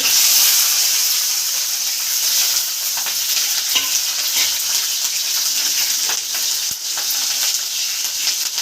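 Green chillies fry in hot oil for a Telugu gongura pickle, giving a steady, close, loud sizzle and crackle with bursts of spitting throughout and no talking.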